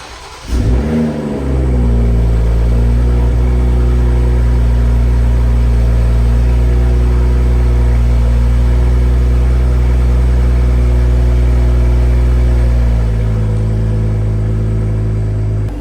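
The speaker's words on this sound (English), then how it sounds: "I'm gonna do a cold start right now before I forget and start wrenching on it" A BMW G42 with an aftermarket downpipe fires up from a cold start and settles into a steady, loud, close idle with a deep, even drone. The revs ease slightly near the end.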